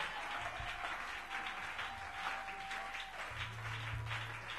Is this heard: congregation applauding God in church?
yes